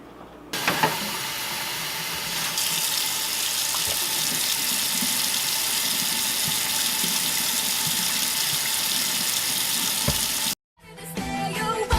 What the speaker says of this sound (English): you just want to make sure that you get all the soap off. Rinse it really good.